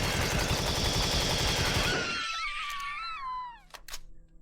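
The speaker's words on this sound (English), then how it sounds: "Much better with the assault rifle." Rapid assault rifle fire from the game Empyrion: Galactic Survival rattles loud and dense for about two seconds, then gives way to a drawn-out, warbling creature cry that slides downward before a couple of sharp final hits.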